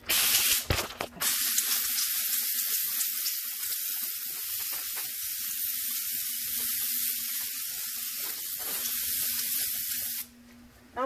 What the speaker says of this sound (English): we can use our vapor steamer to sanitize